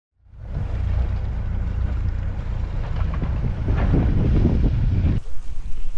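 Sailboat under way on open water among the Croatian islands, with steady, loud wind buffeting the microphone over rushing water along the hull, continuous and close.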